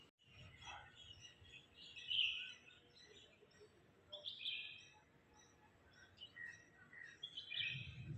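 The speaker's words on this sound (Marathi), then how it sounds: "सकाळ सकाळच्या वेळी छान पक्ष्यांचा आवाज येतोय" Birds chirping and tweeting in bright bursts in the morning, a few calls standing out near and others farther off, over a quiet outdoor background with no talking.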